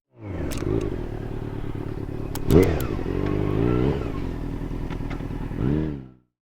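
A 2025 Kawasaki Ninja ZX-14R with a 1,441 cc DOHC inline-four engine runs steadily and loudly nearby, revving up briefly a couple of times before cutting off abruptly.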